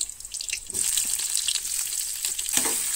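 Onion frying in a pan for chicken gravy gives a close, steady sizzling hiss with soft stirring scrapes and a brief clatter near the end.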